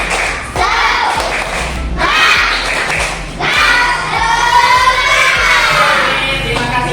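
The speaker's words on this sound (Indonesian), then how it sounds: "tepuk semangat dulu kita, biar semangat" A classroom of children does the 'tepuk semangat' cheer, bursts of rhythmic clapping and thumps mixed with loud shouting voices, coming in three energetic waves close to the microphone.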